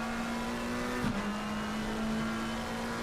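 A race car in a sim racing game at the Zolder circuit holds a steady, loud engine drone, then a quick upshift briefly dips the pitch before the engine settles back onto a sustained note.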